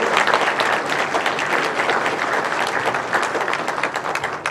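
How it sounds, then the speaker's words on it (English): A large audience claps in a sustained, dense round of applause for the candidates at a Congressional District 26 candidates forum held at Pacifica High School. The clapping stays loud and steady throughout, with no talking over it. "how about a round of applause for the candidates?"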